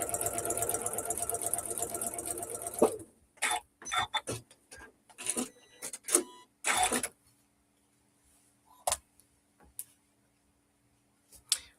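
A sewing machine stitches a quilt block: a fast, rattling run of needle strokes for about three seconds, then several short stop-start bursts of stitching separated by quiet pauses, close up with no talk.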